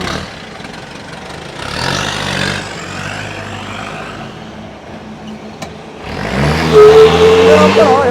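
An old Jeep engine revs during a test drive, a mid-pitched rumble that swells, settles into a steady idle-like drone, then climbs again into a louder rev, with people talking nearby.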